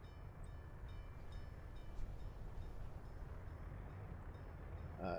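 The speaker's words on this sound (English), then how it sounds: "That's the coal import train." Coal import train loading at a station in the video game Workers & Resources: Soviet Republic, a faint, steady low rumble that holds evenly throughout with no voices.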